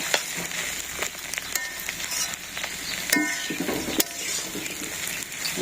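A fish head frying in hot oil in a simple village kitchen, a steady close sizzle with crackles and occasional stirring knocks and pops throughout.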